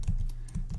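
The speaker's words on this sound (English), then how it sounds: "I'm going to type two kind of @ signs" Several quick keystrokes on a computer keyboard, a short cluster of soft taps close by with no talking.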